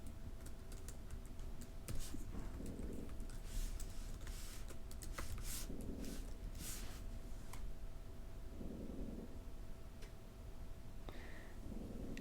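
An email address typed on a computer keyboard, faint scattered key clicks in quick irregular clusters over a low room hiss, close and soft.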